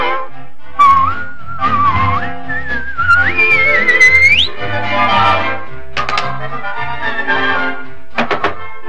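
Melodic whistling in a Disney sing-along song: bright, sliding whistled notes rising and falling over soft musical accompaniment, followed by a few sharp percussive knocks.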